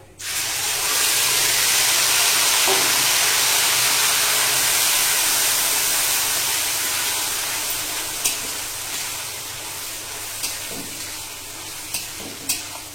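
Onion paste sizzles and hisses in hot oil in a pan after the tempering spices are fried, while cooking a chicken dish. Steady loud frying continues throughout, with a few clinks of stirring near the end.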